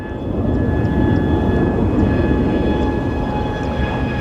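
A Fairchild or Embraer Brasilia twin-turboprop comes in to land at Phoenix Sky Harbor, its steady engine drone and propeller whine loud and continuous, with no voices.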